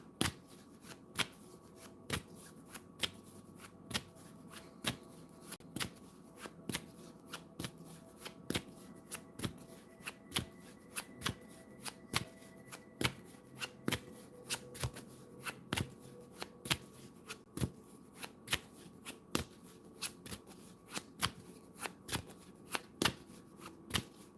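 Tarot cards being shuffled by hand, with crisp riffles and taps repeating in a quick irregular rhythm over roughly twenty seconds, close and quiet, with no talking.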